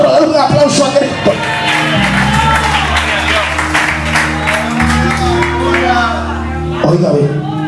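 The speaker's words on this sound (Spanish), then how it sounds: "Denle un aplauso a Cristo." Congregation applauding during a church sermon, with strong, steady clapping and some cheering over sustained organ or keyboard chords, continuing for several seconds.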